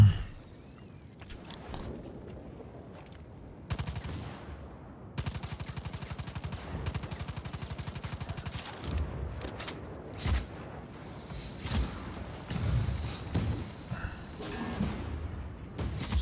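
Bursts of rapid AK assault rifle fire crackle in Just Cause 4 combat, with sustained volleys broken by short pauses and scattered single shots.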